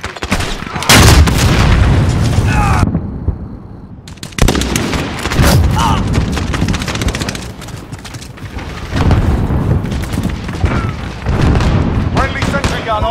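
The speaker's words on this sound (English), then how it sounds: "Allied cruise missile away." Loud, dense Call of Duty Modern Warfare battle sounds with repeated booming cruise missile explosions and gunfire, heavy blasts recurring across the stretch with a brief drop near the start, under occasional radio-style voice callouts.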